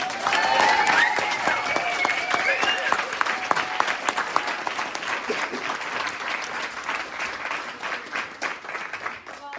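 An audience at a Maritime Science Education Center welcome ceremony gives a speaker a round of applause, a dense crowd clapping with a few cheers early, fading gradually toward the end.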